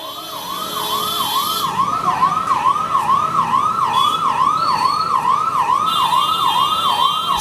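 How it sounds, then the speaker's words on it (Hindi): An ambulance siren wails in a fast, regular up-and-down cycle, loud and close and holding steady throughout, at a crowded political rally with no voices rising above it. "एम्बुलेंस को रास्ता दे दो, एम्बुलेंस को रास्ता दिलवा दो साथियों"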